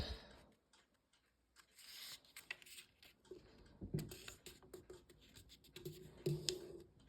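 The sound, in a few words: folding origami paper in half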